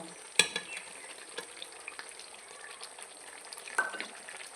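Ground garam masala is stirred into chicken curry simmering in a pan, giving a low bubbling sizzle with sharp spoon knocks at the start and near the end and lighter scraping in between.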